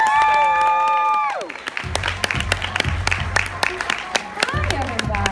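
Audience at a leadership event applauds a presenter with a burst of dense clapping and some cheering at moderate distance, following a loud sustained musical tone, with the music returning at the end.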